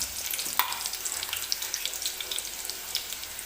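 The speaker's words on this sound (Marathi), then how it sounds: "कढीपत्त्याची पानं, हलकासा गोल्डन होईपर्यंत आपल्याला लसूण तेलामध्ये भाजून घ्यायचं आहे" Garlic and curry leaves fry in hot oil with a steady, bright sizzle and crackle, fairly quiet and continuous, with no voices.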